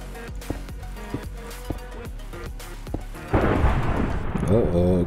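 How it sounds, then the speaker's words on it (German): Thunderstorm in the video game Minecraft: a sudden loud rolling thunder rumble breaks in after a stretch of quieter game sounds and sustains to the end, with a voice briefly heard. "Oh, oh, Gewitter."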